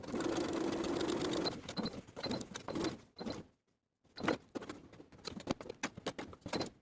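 A sewing machine bastes the zipper fly onto the front of a pair of shorts, running in choppy stop-start bursts of stitching close up, with a full pause in the middle before it picks up again.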